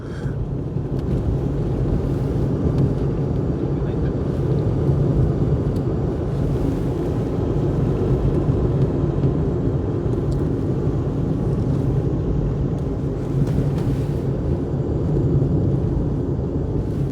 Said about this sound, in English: Shelsley Walsh hill climb in a Proton 2025.